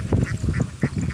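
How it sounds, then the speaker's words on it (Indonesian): A flock of laying ducks quacks steadily while herded across a combine-harvested rice field in the evening, with loud, close, overlapping calls in quick rhythmic bursts. "kita ngangon bebek-bebek bayah kita yang siap telur Mas ya"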